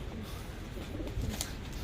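Pigeons coo softly in a home rooftop or yard where they are fed grain, low murmuring calls set against steady background noise.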